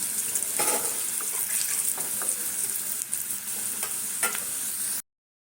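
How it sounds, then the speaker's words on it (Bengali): Potatoes and pointed gourd fry in hot oil with a continuous close sizzle. Clinks from a stirring utensil cut in now and then, and the sound stops abruptly near the end. No talk. "আলু আর পটলটা ভাজি"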